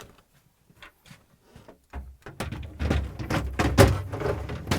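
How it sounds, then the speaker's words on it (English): Vegetable drawer on its rail sliding into a Samsung refrigerator, with faint scrapes followed by louder plastic rattling, sliding and a knock as it seats. "now we can install the vegetable drawers back in."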